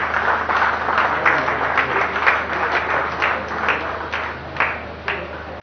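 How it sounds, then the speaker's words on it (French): Audience applause at a ceremony in Kinshasa, a broad wash of steady clapping with a few sharper individual claps standing out, moderately loud and continuous throughout, with no talking. "Est-ce que nous pouvons applaudir?"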